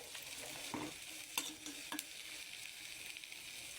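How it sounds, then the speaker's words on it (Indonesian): Homemade massage oil with lemongrass and ginger simmering in a pan while being stirred, a continuous bubbling sizzle with a few knocks and scrapes of the spoon, close and steady, no speech. "aduk ya biar merata ya."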